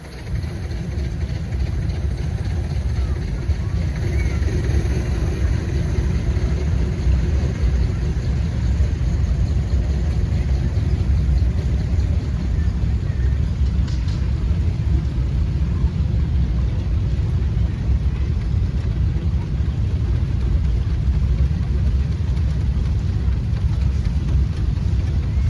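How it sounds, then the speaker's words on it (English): A Sewell steam engine fed by a Case boiler, built to drive a sawmill carriage and mounted on a Farmall frame, runs steadily with a low, continuous rumble at a tractor parade, loud and unbroken throughout. "It's built with a case boiler and a Sewell engine for driving a sawmill carriage."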